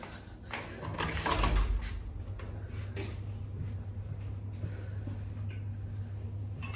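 A hotel room door in Mauritius is opened, with a clattering handle and latch clunk near the start followed by quieter shuffling and soft knocks against a low steady hum.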